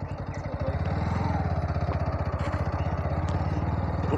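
A motorcycle engine chugs close by on a muddy jungle road with rain-filled potholes, its steady rapid thumping pulse building after a quieter start and holding loud and even throughout.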